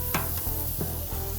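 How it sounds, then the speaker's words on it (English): Steaks sizzle on a hot Blackstone dual zone griddle with butter, a close, steady crackling fry broken by several short scraping stirs of a spatula. "You can hear that sizzle on these steaks."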